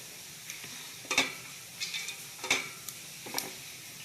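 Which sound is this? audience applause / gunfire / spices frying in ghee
spices frying in ghee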